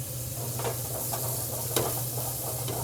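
Red wine sauce sizzles and bubbles in a pan over a very high flame, with a steady soft hiss broken by faint stirring scrapes and one sharper pop.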